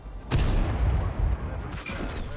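A burst of heavy tank gunfire from a TVP T 50/51 autoloader in World of Tanks booms loudly for about a second, then stops; after a short pause a second, softer blast follows with rumbling.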